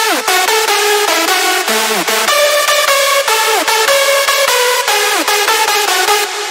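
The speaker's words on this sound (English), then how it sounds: "As you can hear, there's a lot of reverb on this lead" Bright electronic synth lead in a remix, drenched in reverb and delay, plays a fast stepping melody with pitch slides; loud, full and continuous with no voices.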